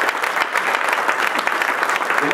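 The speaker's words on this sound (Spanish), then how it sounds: "Vamos a dar un fuerte aplauso al Señor en esta noche" An audience at an evening anniversary church service claps loudly and continuously, a dense close roar of hands with faint voices mixed in.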